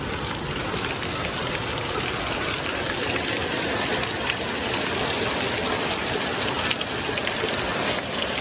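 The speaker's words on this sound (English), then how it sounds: "That's a lot of rain!" Heavy rain pours steadily in an Oregon forest, a dense, continuous hiss of drops pattering on surfaces close by, loud and unbroken throughout with no voices.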